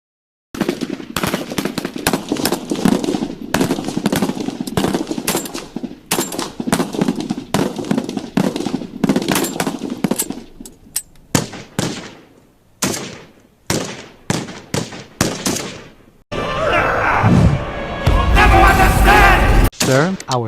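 A volley of guns fired on command in a staged emergency scenario, a long run of sharp, loud rapid bursts that thin into scattered shots, then a dense roaring burst near the end.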